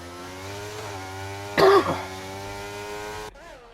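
A single cough bursts out over steady engine drone from the F1 23 race at Abu Dhabi, short and loud against the continuous revving hum, then the engine sound cuts away.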